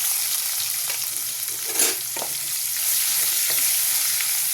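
Onions and oil sizzle steadily in a pan alongside dried red chilli, cumin, garam masala and bay leaves, with fried potatoes already done, while khichdi is being cooked; a continuous close, fizzing hiss with occasional stirring scrapes and no voices.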